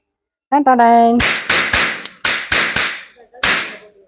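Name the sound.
round caps fired in a toy cap gun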